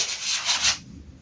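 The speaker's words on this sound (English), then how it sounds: "I want to give the whole wing a flat sanding anyway, like this." A few quick scratchy flat-sanding strokes on a wooden RC model aircraft wing, close by, stopping after under a second and leaving quiet background.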